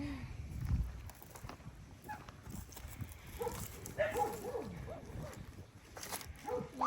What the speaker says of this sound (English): you make them dogs bark